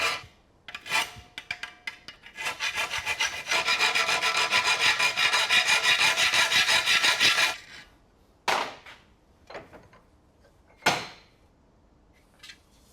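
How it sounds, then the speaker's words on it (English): Hand filing of a wooden part being shaped to an accurate angle for a sill fit: a sustained rasping stroke run of several seconds, close and fairly loud, with a few shorter scrapes and knocks before and after. "then start filing it"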